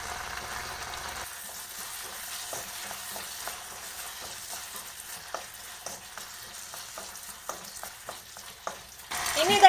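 Soya chunks sauce with soy sauce and sugar being stirred in a pan, a steady sizzle under repeated light spoon clicks and scrapes, ending in a louder clatter.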